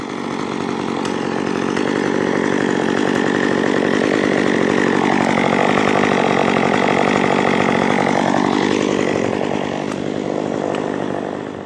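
A freshly sharpened chainsaw engine warms up steadily nearby, idling with a buzzing drone and a brief revving rise and fall in the middle.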